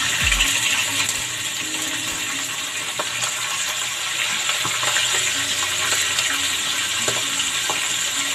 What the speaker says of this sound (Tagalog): Talaga pong matilansik po yan pag piniprito, kaya tatakpan po natin.